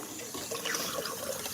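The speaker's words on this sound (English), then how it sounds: "I'm getting water for my chickens because you can no longer turn the water outside on." Indoor tap water runs steadily into a container being filled to carry out to backyard chickens, a close, continuous splashing rush with no talking.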